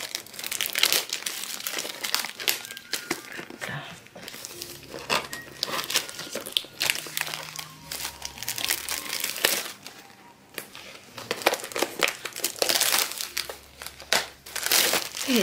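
Packaging paper crinkling and rustling as a sealed binder is unwrapped, close handling with irregular crackling bursts and brief pauses, no speech.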